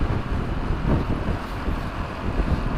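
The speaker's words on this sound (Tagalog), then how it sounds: "Yung malakas nga lang yung hangin" Strong wind buffets the microphone during a night motorcycle ride from Pilar to Legazpi, Bicol, with a constant low roar and rumble, gusting slightly throughout; no voices.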